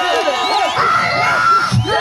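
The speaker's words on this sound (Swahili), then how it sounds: "Pigia makofi sisi tuliookoka." A church congregation erupts in loud, excited cheering and shouting during a sermon, many voices overlapping close by in a sustained burst.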